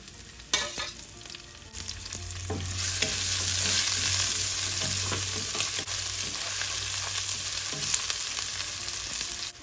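Garlic, ginger and lemongrass fry in two tablespoons of oil, a couple of sharp clunks giving way to a swelling, steady sizzle with occasional stirring scrapes, close and alone.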